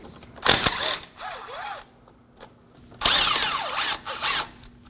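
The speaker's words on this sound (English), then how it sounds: "We can remove the two 13 millimeter bolts holding the caliper body to the bracket." A power tool removes the two 13 mm caliper bolts on a 2009–2014 Ford F-150 front brake. It gives two close whirring bursts whose pitch rises and falls, with a quieter pause between them.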